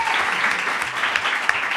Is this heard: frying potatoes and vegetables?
no